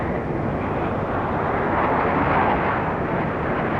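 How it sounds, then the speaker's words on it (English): Large aircraft flying in tight formation at the 1968 Farnborough airshow give a loud, steady engine roar that holds without a break. "working physically jolly hard to throw those big aeroplanes about the sky"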